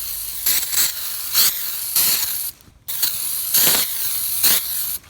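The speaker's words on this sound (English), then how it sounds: "we're going to wash these anyway with some brake cleaner" Brake cleaner is sprayed onto brake rotors from a Ford Taurus or Mercury Sable during a rotor replacement. Loud, close aerosol hissing comes in pulsing bursts, with one brief pause midway.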